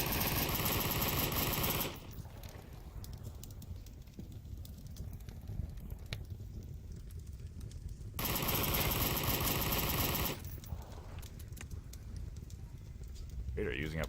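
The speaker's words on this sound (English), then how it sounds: "Vader using up a full LMG clip there" A light machine gun in the VR shooter Onward fires a long sustained burst, then another after a pause, each a loud rapid rattle; quieter stretches between carry scattered distant shots and a commentator talking.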